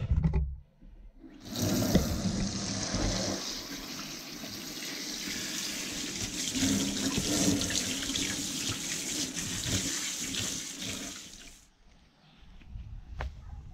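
Common hogweed stems rinsed under a running tap: water gushes loud and steady into a sink, shifting slightly as the stems move through the stream, then cuts off near the end, leaving quiet room noise.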